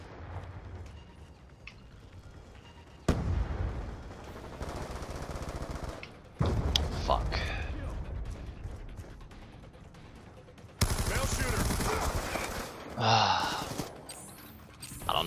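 Heavy machine gun fire in Call of Duty: Black Ops 2 Team Deathmatch, coming as loud sustained bursts that start and stop abruptly across several stretches, layered with other game effects.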